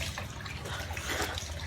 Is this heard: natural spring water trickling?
yes